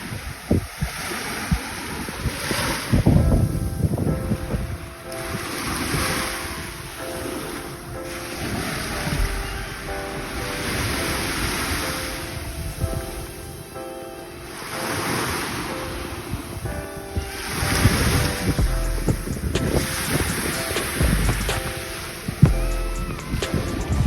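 Ocean waves rolling onto a beach in the US Virgin Islands, with surges cresting every few seconds under a constant wash of wind buffeting the microphone.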